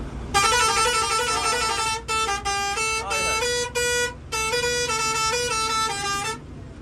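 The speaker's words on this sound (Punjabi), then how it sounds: "ਇਹ ਜਿਹੜਾ ਹਾਰਨ ਹੈ ਗਾਣੇ ਦੀ ਤੱਜ ਤੇ ਹੈ" A loud musical vehicle horn plays a song melody of sustained notes, with brief breaks between phrases, at the Maghi fair in Sri Muktsar Sahib.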